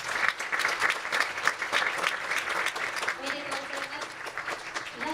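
Warm applause from an audience at a children's peace summit ceremony for plaque recipients, continuous and moderately loud, with a voice speaking partway through.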